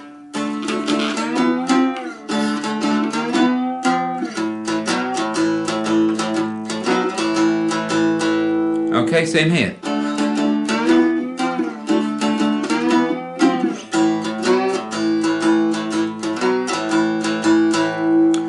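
A two-string cigar box guitar strums steady twelve-bar blues chords up close, the rhythm running continuously with a quick spoken aside near the middle.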